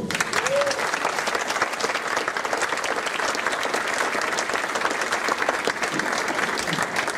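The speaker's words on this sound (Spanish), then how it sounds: "para quien le pido un fuerte aplauso" A lecture audience gives strong, steady applause welcoming a historian before his talk on recent times in Mexico, dense clapping sustained throughout with a brief voice at the start.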